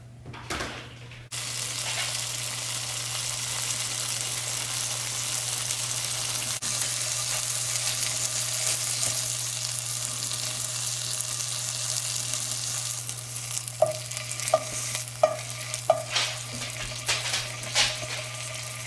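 Marinated wild turkey pieces from a Maine hunt frying in a pan, a loud continuous close sizzle and hiss that holds steady, with a few light taps and clicks of a utensil toward the end.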